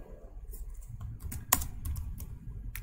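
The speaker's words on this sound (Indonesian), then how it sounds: "Coba ya, kita ketikkan cat" Keystrokes on a computer keyboard as the cat command is typed into an Ubuntu 20.04 terminal running in VirtualBox, a short run of quiet, close clicks with one sharper key strike near the middle.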